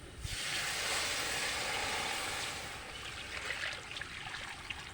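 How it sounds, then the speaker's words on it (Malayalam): Water is poured into a pan of sautéed spice mix for crab biryani, giving a steady close hissing, rushing stream that eases slightly after a few seconds, with no talk. "നമുക്കതേ ആവശ്യത്തിനുള്ള വെള്ളം ഒഴിക്കാം"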